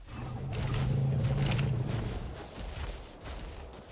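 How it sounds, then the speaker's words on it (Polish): A tranquilizer shot fired at a small, low-level Oviraptor in ARK Survival Evolved: one brief, sharp game gunshot over a rumbling ambient backdrop with no talking. "Jeden strzał w ciało proponuję"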